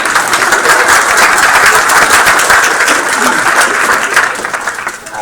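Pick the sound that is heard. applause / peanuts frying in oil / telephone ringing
applause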